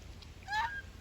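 Thai geese kept in Pattaya give a single short nasal honk midway, faint and set against a quiet low background hum.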